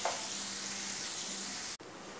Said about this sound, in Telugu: సో ఆనియన్స్ బాగా ఫ్రై అవ్వాలి.